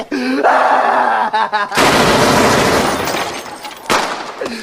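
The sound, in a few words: gunshots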